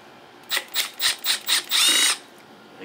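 Several short whirring bursts from a power driver removing screws from a vintage Honda engine case, then a longer sustained run, close and fairly loud with no talking.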